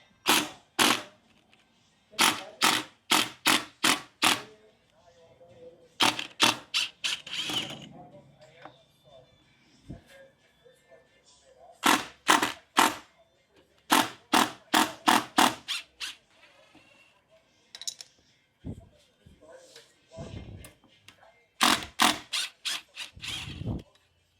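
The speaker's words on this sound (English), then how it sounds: "we just want to unscrew the middle bolts, motor bolts" Bursts of rapid ratcheting clicks from a tool unscrewing the middle motor bolts on a Begode Race electric unicycle wheel, coming in repeated clusters separated by pauses and softer handling noises.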